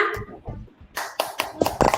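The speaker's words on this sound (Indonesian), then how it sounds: "Tepuk tangan untuk semua." Students in a classroom break into a short burst of hand clapping, sharp irregular claps building over about a second after some quiet tapping and voices at the start.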